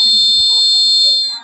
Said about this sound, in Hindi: ये दो जैसे पानी में आएगा तो बजर बजने लगेगा